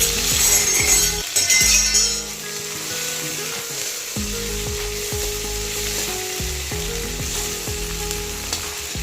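Shitol fish frying in hot oil with reddened garlic, a continuous close sizzle with a brief louder burst at the start, then a steady hiss and some clinks, no talk.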